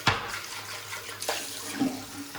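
Tap water runs steadily while a shaving soap bowl is rinsed out, with a few light knocks and splashes close by.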